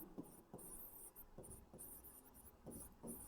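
A pen writes an accounting formula by hand on paper, giving faint, close scratchy strokes in short irregular bursts with brief pauses between them and a steady background hiss.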